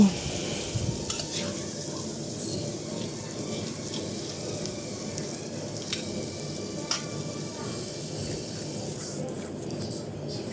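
Ingredients for a mashed bhorta fry in a pan with a low, steady sizzle, joined by faint stirring scrapes and soft clicks, with no talk.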